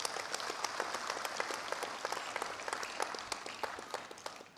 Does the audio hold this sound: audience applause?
yes